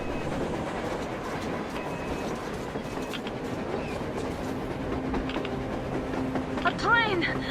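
A train running on the surface in the video game Metro Exodus rumbles steadily with a rhythmic clickety-clack of wheels on rails, heard at moderate distance under ambient noise, with a brief voice near the end.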